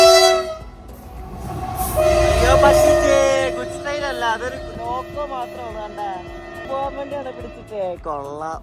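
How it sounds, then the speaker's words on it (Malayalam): A WDG-6G diesel locomotive hauling a goods train rumbles past at a station crossing, its horn sounding in long tones over a steady rolling clatter, with a person talking in the foreground. "India's most powerful diesel loco ആണ് ഇപ്പോൾ പോയത്"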